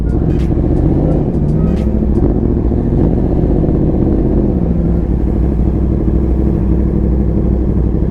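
A Yamaha R1M motorcycle engine runs close by as a steady, loud low rumble with a slight wavering pitch, continuous for the whole stretch with no clear peaks.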